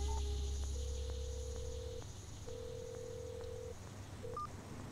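Telephone keypad tones beep in a steady sequence of separate dialed digits over a low hum, with no talking.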